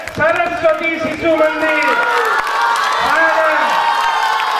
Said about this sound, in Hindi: मैं आप लोगों से अनुरोध कर तालियों में कंजूसी नहीं करिएगा।